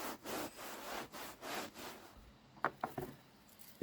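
Brush scrubbing a boat's surface with soft scrub cleanser during spring cleaning, rhythmic back-and-forth strokes, fairly faint and close, followed by a few sharp taps.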